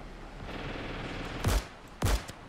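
Two sharp Gewehr rifle shots ring out in Ravenfield during a D-Day beach defense battle, spaced about half a second apart over a low rumbling battlefield background.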